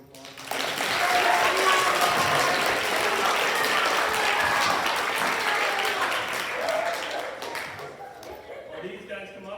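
A school audience at a middle school fall sports assembly claps in a broad, sustained round of applause that rises quickly, stays dense for several seconds, then tapers off into scattered claps.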